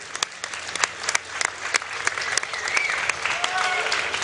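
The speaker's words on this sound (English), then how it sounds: "can I get a round of applause for yourselves for showing up here and being supportive?" A live crowd at a League of Legends Season 1 World Championship group-stage match in Sweden applauds loudly, with sharp individual claps standing out over a building wash of clapping and cheering.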